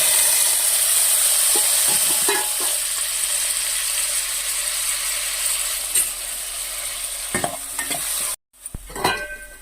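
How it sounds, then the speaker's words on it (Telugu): Pineapple pieces fry and get stirred in a pan for rava kesari, a steady close sizzle running throughout under occasional scraping knocks of the spoon, with a brief break near the end. "ఇదిగోండి ఇట్లా బాగా ఫ్రై అయిపోయింది."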